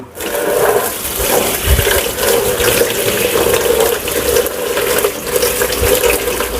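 Beef offal being rinsed under a running tap, a steady close rush of water splashing over the meat in a sink, continuous throughout with no voices.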